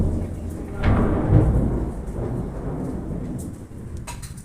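Thunder from a lightning storm rumbles low and heavy, swelling near the one-second mark and rolling on steadily afterward, with faint rain noise beneath.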